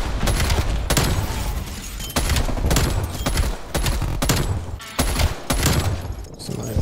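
Automatic weapons fire in a Call of Duty: Cold War multiplayer match, with loud, near bursts of rapid shots repeating across the whole stretch and game sounds filling the gaps.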